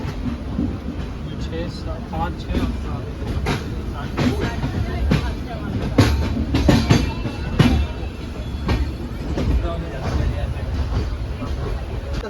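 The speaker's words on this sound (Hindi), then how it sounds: "हमारी रेल चलते हुए" A moving passenger train rumbles and clatters steadily throughout, with occasional wheel clicks and squeals, close and continuous, while people talk over the noise inside the carriage.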